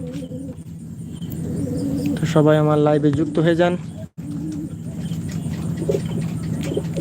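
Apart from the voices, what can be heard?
pigeons of various fancy breeds cooing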